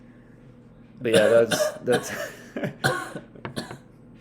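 One person coughs and clears the throat in a few rough bursts near the microphone, mixed in with casual conversation.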